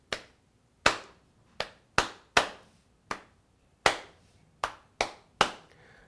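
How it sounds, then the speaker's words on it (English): Hand claps beat out an irregular rhythm pattern in free time without backing music, ten sharp, close claps spaced unevenly with brief decays between them. "we have a pattern to clap, which is not with the backing track, it's just free time"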